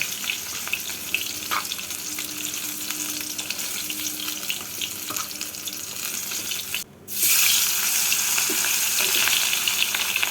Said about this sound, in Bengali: একইভাবে বাকি মাছগুলোকেও ভেজে নেব